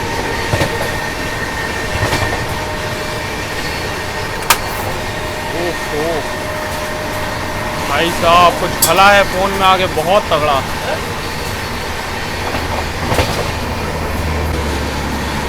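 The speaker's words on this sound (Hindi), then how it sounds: "अभी भाग्यनगर एक्सप्रेस को अपनी ट्रेन ओवरटेक करने वाली है" An express train rumbles steadily on a parallel track, overtaking a Humsafar Express in India, with rhythmic clatter and brief squealing, while people talk loudly over the continuous rail noise.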